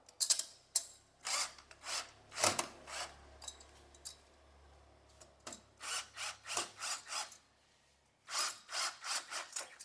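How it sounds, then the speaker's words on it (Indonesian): A steel curtain bracket screw is driven home with a drill or screwdriver, giving a series of short, scratchy turning bursts separated by brief pauses, close and fairly quiet with no talking. "dikencangin menggunakan bor atau obeng seperti ini"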